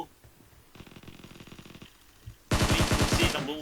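Gunfire rings out in the battle royale game PUBG Mobile as a rapid automatic burst in the middle distance, then a much louder, closer volley of rattling shots near the end.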